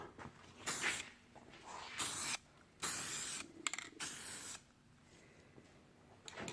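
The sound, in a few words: spray painting a coat on Buick front bumper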